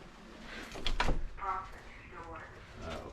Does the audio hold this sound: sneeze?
no